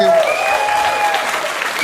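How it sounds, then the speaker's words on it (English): Steady hand-clapping applause from a small group, dense and continuous, with a voice talking over it. "give everybody a hand clap"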